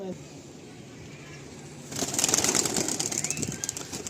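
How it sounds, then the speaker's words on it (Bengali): A flock of pigeons, white and other young high-flying birds, is released, and a sudden burst of wing flapping and fluttering swells after a quieter stretch with faint background sound. "আরও কিছু পায়রা আছে দাদা, সাদা জেনারেশন, ফুলসা জেনারেশন, সেগুলো ছাড়া হবে"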